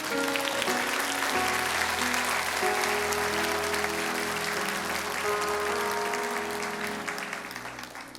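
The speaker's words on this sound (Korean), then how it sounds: "우리 박수로 한번 축복해 주실래요?" A church congregation at a Sunday worship service applauds a newly ordained woman pastor, with dense sustained clapping that holds steady for several seconds before gradually tapering off.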